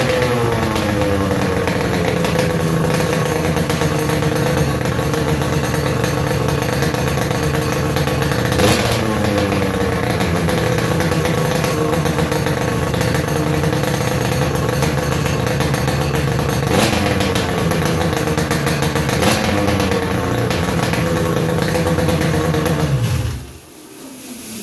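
A go-kart engine with a makeshift strapped-on muffler and its water pump running roars steadily and loudly for over twenty seconds, with a few rev swells along the way, before abruptly cutting off at the end.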